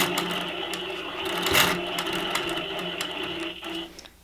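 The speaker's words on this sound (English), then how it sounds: "I'm going to stitch this part down before I stitch this down." A longarm quilting machine stitches down a quilt binding with a steady, close mechanical hum and rapid needle clatter, running continuously and fading out near the end.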